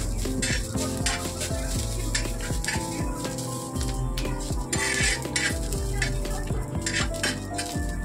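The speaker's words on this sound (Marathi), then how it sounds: "तर तुम्ही बघू शकता मस्त असा मसाला आपला फ्राय होत आहे" A masala of peanuts and spices fries in a pan, with a steady sizzle under clinks and scrapes of a metal spoon against the pan, heard close up and with no speech.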